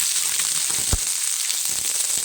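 Curry leaves, shallots and coconut pieces sauté in a hot pan, giving a steady close sizzle with a brief sharp pop near the middle.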